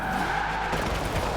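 A Nissan GT-R R33 in Forza Horizon 4 brakes hard, its tires skidding in a loud, steady screech over engine noise that shifts partway through, with no talk.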